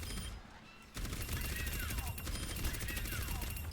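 Orisa's Fusion Driver from the game Overwatch fires a rapid, continuous stream of shots after a brief quieter lead-in, with faint whooshing sweeps over the dense gunfire.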